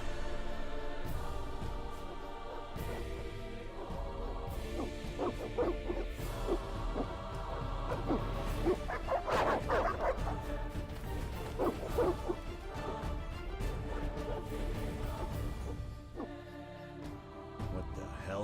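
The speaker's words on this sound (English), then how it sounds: "These dogs are deadly." Dogs bark and yip in The Witcher video game, short repeated barks scattered through a loud, dense orchestral soundtrack that plays continuously and nearly buries them.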